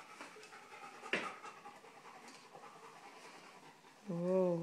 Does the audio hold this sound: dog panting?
yes